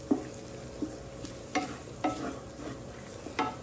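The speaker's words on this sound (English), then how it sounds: "I want to just stir this up enough to cook that flour taste out of here." Spoon scraping and stirring flour into sausage gravy in a pan, irregular clacks and scrapes every half second or so over a faint steady sizzle.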